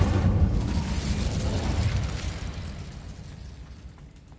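An Incendio fire spell cast in Hogwarts Legacy bursts out as a loud, close roaring blast of flame, then fades away steadily over a few seconds with no talking.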